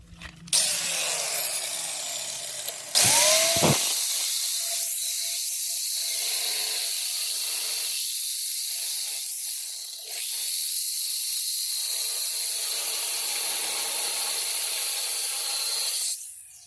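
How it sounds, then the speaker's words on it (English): A loud, continuous high-pitched grinding hiss of an angle grinder with a cutting wheel cutting through a rusted metal sway bar link, starting after a brief whine and running steadily for many seconds up close. "I'm gonna get the grinder out with the cutting wheels and I'm gonna start cutting this off"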